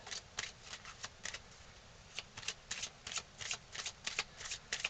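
A deck of romance oracle cards being shuffled, with repeated quick riffling bursts in an irregular rhythm, close and fairly quiet, with no talking.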